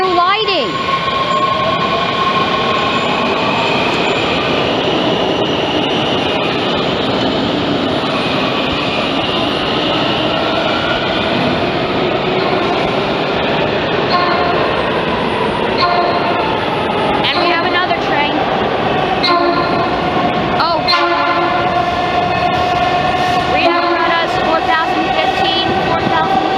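Breda metro train 3146 pulls into a station with a long rumbling approach, rising and falling tonal whines from the motors, and brake squeals toward the end as it slows.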